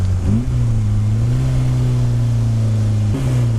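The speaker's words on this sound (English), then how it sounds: "I'm short shifting through the gears, you don't need to rev it up to oblivion." A car with a Honda S2000 F20C engine drones steadily under load, short-shifted, the pitch stepping up and then dropping at a gear change before climbing again.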